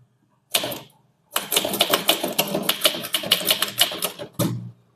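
A typewriter clatters through a Tamil memorandum in fast, dense bursts of keystrokes, with a lone strike early on, a short pause, then steady rapid typing and a final separate clack, close and loud with no voices.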